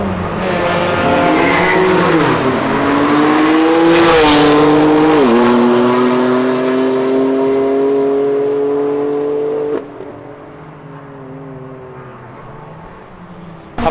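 Cars in a short, legal street-style drag race accelerate hard past the listener, engines climbing through gear shifts with a sharp tire squeal near the middle, loud and close, then the roar fades to a quieter drone.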